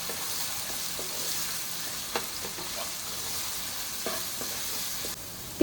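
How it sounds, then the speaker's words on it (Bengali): Sliced onion fries in hot oil after a spice tempering, giving a steady close sizzle broken by the occasional scrape and clink of stirring. "ফোড়ন দেওয়ার পরে পেঁয়াজটা আমি দিয়ে দেবো তেলের মধ্যে"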